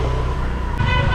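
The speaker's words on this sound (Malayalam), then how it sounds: "ഈ വണ്ടിയിലാണ് നമ്മൾ പോണത്, ഞങ്ങളുടെ സ്വന്തം വണ്ടി." A car drives through the streets of Kozhikode near Valiyangadi market, with a steady close engine and road rumble, a brief horn toot partway through, and traffic noise around it.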